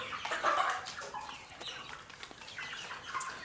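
Chickens clucking and a rooster calling softly at a distance, with scattered farmyard bird noises and no speech; young hens and roosters.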